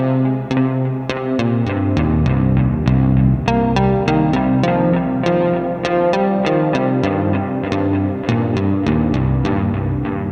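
Synthesizer played through the distortion setting of a Sonicake Pocket Master multi-effects pedal, a loud gritty buzzing tone with rapid repeated plucked notes and shifting chords, steady and dense throughout, no voice.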